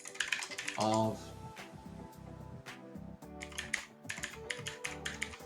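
Fast clicking keystrokes on a computer keyboard in quick bursts, close up, with a voice talking briefly over them.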